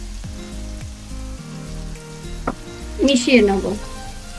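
Tomato paste sizzles in a pan for a Bengali jackfruit kalia, a soft steady frying hiss with a brief louder burst of spitting and stirring near the end, while someone speaks briefly over it.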